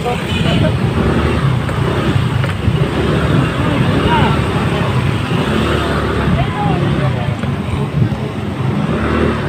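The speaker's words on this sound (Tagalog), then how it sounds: "Dami motor." Many motorcycles and other vehicles pass along a road, making a dense, continuous roar of engines and tire noise that stays loud and steady throughout.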